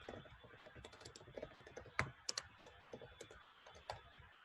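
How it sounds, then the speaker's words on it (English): Keys on a computer keyboard are typed in an uneven run of light clicks, with a few sharper taps near the middle, close and fairly quiet with no voice. "So let's try and type that."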